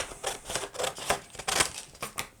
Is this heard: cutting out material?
yes